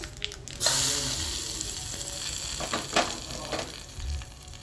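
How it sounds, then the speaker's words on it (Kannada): Spices tempering for green cashew chutney hit hot oil with a sudden loud sizzle that keeps crackling and hissing, with a few stirring scrapes, close by. "ಒಗ್ಗರಣೆ ಪುಟ್ಟ ಕೂಡಲೇ ಹಾಕಲಿಕ್ಕೆ."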